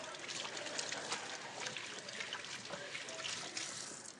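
Hands are washed under a running tap, a faint, steady splash and trickle of water lasting a few seconds, with no talking.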